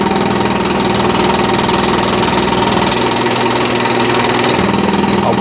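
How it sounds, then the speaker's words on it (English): An air compressor runs loud and close, its intake pulsing rapidly and steadily at the filter housing over a constant mechanical drone, with no speech. "As you can hear, those pulses of the air intake right here, where the filter housing is."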